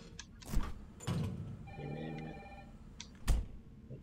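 A telephone rings in the survival horror game Resident Evil 3 Remake, with a few electronic ring bursts mixed with thumps and other game sounds, all fairly quiet.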